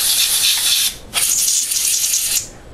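Compressed air cleaner blasts into the rear vents and ports of a Nintendo GameCube in two loud, close bursts, a long hiss, a brief pause, then a second longer spray that cuts off sharply.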